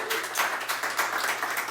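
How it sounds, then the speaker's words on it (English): Audience applause at a Spontaneous Shakespeare improv show premiering a history format: a short, dense burst of many hands clapping, fairly close and steady, with no voices over it. "Give yourselves a round of applause."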